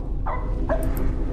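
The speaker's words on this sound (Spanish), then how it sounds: "Está ladrando otra vez. Qué grande la perra, ¿no?" A large dog in the video game Supernatural barks twice, two short separate woofs close by, with a faint high chime afterward over a low steady background hum.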